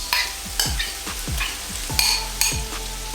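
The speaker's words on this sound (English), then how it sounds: "you want that sizzle" Onions frying with a steady oil sizzle under repeated scraping and clacking strokes, roughly twice a second, close by; no talking.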